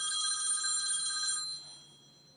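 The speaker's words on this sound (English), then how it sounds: "My phone like never rings in the daytime, but today it is ringing" A phone rings indoors in the daytime, a bright electronic trill sounding close for about a second and a half before cutting off into quiet room tone.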